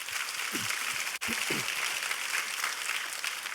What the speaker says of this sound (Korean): 우리 격려의 박수로 우리 함께 하겠습니다